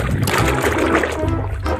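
Water splashes and trickles steadily as muddy red dirt is rinsed off a small toy car, continuous and close throughout.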